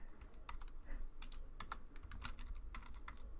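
Typing on a computer keyboard during a beginner Python programming lesson, a steady run of crisp, close key clicks with uneven rhythm and no talk.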